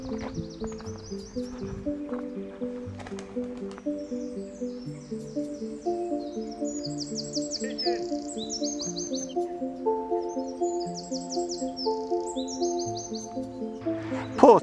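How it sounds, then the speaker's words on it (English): Small birds chirp and twitter in short bright bursts beside a lake, moderately distant, over a steady low tonal hum that runs throughout. "Hear the birds."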